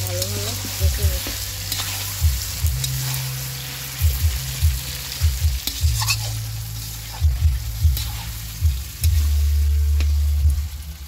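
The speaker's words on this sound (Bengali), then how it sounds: "কড়াইয়ের মধ্যে দিয়ে ভালোভাবে কষে নিচ্ছি।" Spiced chicken being sautéed in a kadai for a chicken biryani. A constant close sizzle runs under repeated stirring and scraping strokes, with no voices.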